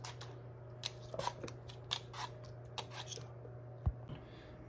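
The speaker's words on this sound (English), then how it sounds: "Next step, you peel the apples." Granny Smith and Honeycrisp apples being peeled, giving a run of close, quiet scraping and crisp snipping strokes in an irregular rhythm, with one sharper knock near the end.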